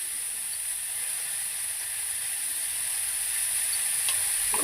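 Chopped mango frying in a pan with salt and a little turmeric, giving a steady, even sizzle with faint scraping of stirring, constant and moderately close with no voices.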